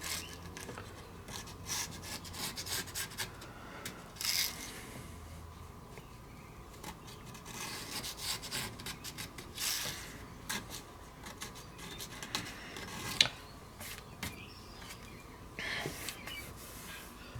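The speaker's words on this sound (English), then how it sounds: "When you finish scraping it" The diaphragm panel of a Quad ESL63 electrostatic speaker is scraped clean by hand in a steady run of faint, close rubbing strokes that repeat for several seconds, with no talk.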